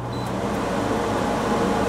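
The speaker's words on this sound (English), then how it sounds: "So air conditioner needs to be as low as it possibly will go, so that's 61 degrees." An air conditioner running on high with a Coolbot controller, cooling a refrigerated trailer, gives off a steady, close mechanical hum and whoosh. The sound stays even throughout, with no talk.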